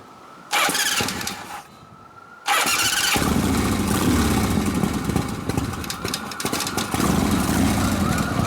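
A big-bore Harley shovelhead engine in a new FL bike build starts and runs loud and close, settling into a rough, steady idle after a brief earlier burst, its fuel mixture freshly adjusted so the idle speed is off.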